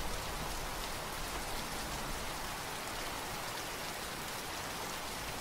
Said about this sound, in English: as I listened to the rain's gentle whispers